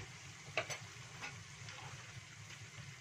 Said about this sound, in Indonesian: Nah, udah mendidih ya guys ya,